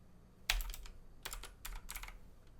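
Close, quiet keystrokes on a computer keyboard while working in AutoCAD, in short bursts of several rapid clicks separated by pauses.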